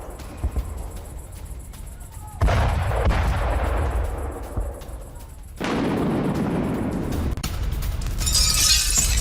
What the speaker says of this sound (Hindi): एयरपोर्ट पर मौजूद टैंकर्स में हुआ है धमाका।